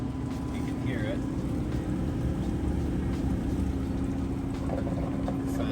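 A Kenmore HE washer spins at its highest speed, producing a loud, constant whirring drone with a rushing, water-like roar that holds steady throughout.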